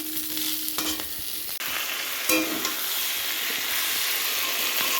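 Cauliflower and potatoes with spices sizzle steadily in a pan, a close continuous frying hiss broken by a few scrapes and clatters of stirring, no talk.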